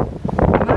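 Strong wind while standing on a building: loud, rumbling gusts buffet the microphone in a brief, rough surge with no other sound.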